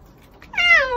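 A cat gives one short, clear meow up close, sliding downward in pitch, after a brief quiet moment.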